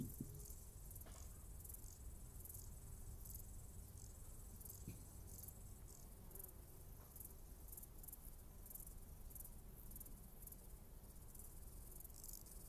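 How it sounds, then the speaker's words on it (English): Grasshoppers chirp in an Alpine meadow, picked up through a soil sensor as steady, faint, high pulsing trills that repeat at regular intervals over a low, constant rumble, with a few soft knocks and no voices. "So you hear the grasshoppers."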